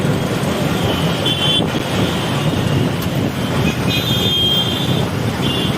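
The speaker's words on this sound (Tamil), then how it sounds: "புவனேஸ்வரில் பாருங்கள் எவ்வளோ டிராஃபிக்னு இருக்கும்" Steady road traffic in Bhubaneswar, a dense continuous roar of vehicles nearby with occasional faint horn tones over the top, loud and unbroken.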